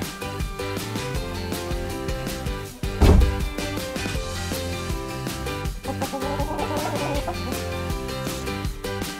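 Chickens clucking inside a big coop as they move from summer pasture to a winter hoop house, a dense steady chorus of overlapping clucks with one louder burst near the middle.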